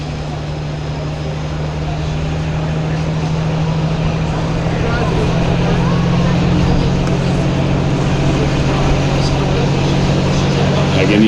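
Pulling tractor with a 466 cubic inch engine and water injection, a sustained loud droning engine roar at a tractor pull in Mound City, Missouri, steadily building slightly in intensity, with the announcer's voice faint beneath.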